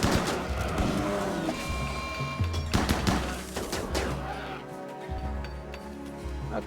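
Rimworld colonists open fire on a grizzly bear: bursts of rapid gunshots crackle loudly and densely, rising and falling over several seconds before thinning out, with no talking.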